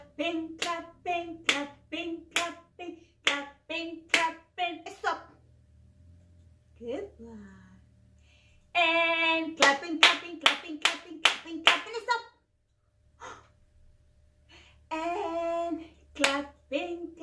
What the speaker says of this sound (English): And clapping, clapping, clapping, clapping, clapping, clapping, and stop.